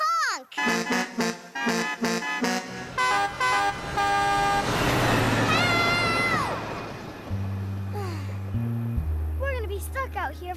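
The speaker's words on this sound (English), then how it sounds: "Let's honk." Cartoon trains honk their horns in a children's animated show, with a quick run of bright toots followed by lower sustained horn blasts, mixed with music and character voices talking.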